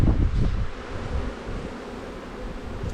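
Honeybees buzzing around a hive during an April inspection, a steady low droning hum with a louder burst at the start, close to the microphone with some wind rustle.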